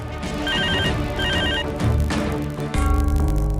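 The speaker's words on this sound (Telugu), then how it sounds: "ఆ ఫోన్ ఎవరో చూడు" A telephone bell rings repeatedly in short bursts in an indoor TV-serial scene, loud and clear against background music, with no talking.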